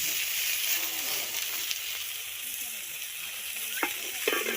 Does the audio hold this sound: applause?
no